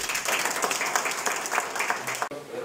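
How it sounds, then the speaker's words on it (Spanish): Audience applause at an academic admission ceremony in Toledo: a crowd claps in a dense, fairly close patter that continues strongly, dips abruptly near the end, then resumes briefly. "con el aplauso soberano de todos ustedes"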